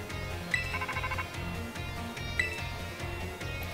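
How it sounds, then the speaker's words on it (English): A phone ringing in the video game Pokémon Violet, a faint electronic ringtone chiming in repeated short bursts over soft background music. "Hey, your phone is ringing."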